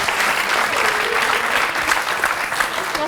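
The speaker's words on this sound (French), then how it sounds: "on applaudit Paulette" Loud, continuous applause from a studio audience welcoming a woman named Paulette, dense and steady with no speech over it.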